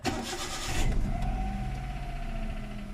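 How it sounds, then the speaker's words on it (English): A Hyundai Eon's engine cranks briefly and catches right after an oil change, then settles into a steady close idle hum with no talking. "So let's start the engine and we'll check for leaks."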